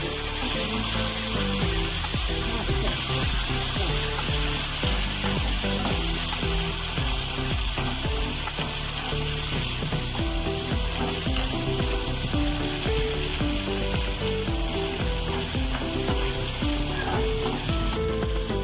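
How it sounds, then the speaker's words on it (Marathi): Peas sautéing in a frying pan for karanji filling, a loud continuous close sizzle with scraping stirring strokes and occasional clinks running evenly throughout. "पाच वाटाणे घालून घ्या आपण जरासे परतून घ्या"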